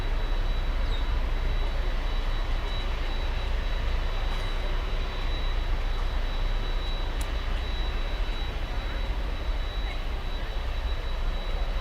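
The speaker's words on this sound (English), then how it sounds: "Cayman Airways. A 737 MAX 8. The next one coming in." A Cayman Airways Boeing 737 MAX 8 airliner on approach to land at Miami airport gives off a loud, steady jet engine roar that holds without pause throughout, with no voices.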